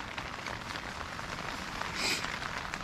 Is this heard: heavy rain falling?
yes